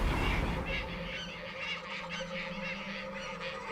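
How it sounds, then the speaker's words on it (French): Tasmanian native hens, known as turbo chooks, squawk and honk repeatedly at a moderate distance outdoors, with a rhythmic series of harsh calls over a steady low background. "Ce que vous entendez là crier alors que j'essaye de dormir, c'est des turbo chouk."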